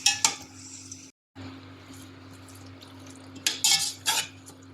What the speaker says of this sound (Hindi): अब हम चिकन को प्याज में अच्छी तरह से मिक्स कर लेंगे